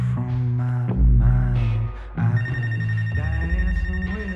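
An incoming phone call rings in the video game Life Is Strange: Wavelengths, a loud tonal ringtone with repeating melodic notes over a low hum, continuing without pause.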